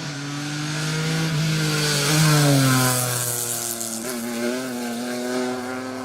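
A BMW M Cup one-make championship rally car runs a special stage at Rally Wervik, its loud engine snarl rising as it approaches and dropping in pitch as it passes close by, then revving hard again as it pulls away.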